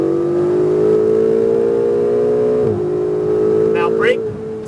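A Ferrari 488 GTB accelerates on a race track, its engine a loud, steady drone that holds its pitch for a few seconds, briefly dips, then carries on, with a short higher-pitched whine near the end.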